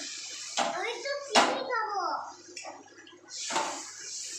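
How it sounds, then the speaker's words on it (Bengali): Hot water is poured into a pot of yogurt potato curry (doi aloo dum), heard as a few splashing pours and bubbling sizzles close by, with a gap between pours. "আমি এখানে গরম জল করে রেখেছিলাম তাই গরম জলটাই দিয়ে দিলাম"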